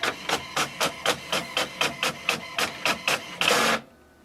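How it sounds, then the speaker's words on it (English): An HP Envy Photo 7855 inkjet printer prints a wireless report, about a dozen evenly spaced mechanical clacks in quick rhythm, then a longer whirring feed that stops abruptly, loud and close. "Now next step is to click on the print report button."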